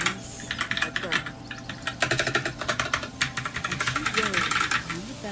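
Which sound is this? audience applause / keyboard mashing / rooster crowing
keyboard mashing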